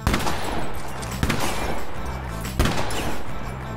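Bursts of gunfire in the horror video game The Quarry, loud noisy volleys with sharp onsets at roughly even intervals, rattling and dense throughout with no clear speech.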